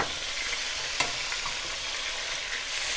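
Chicken pieces for paprikash fry in a pan with a steady, dense sizzle and crackle, close and even throughout, with one sharp pop near the middle.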